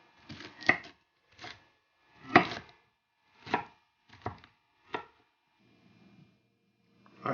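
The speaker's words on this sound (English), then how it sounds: "slice those long things, the long shreds, and slice those up some" A knife slices half a head of cabbage into long shreds for coleslaw, giving about seven crisp, separate chopping strokes on a board at an uneven pace, close and fairly loud, with a soft rustle of handling near the end.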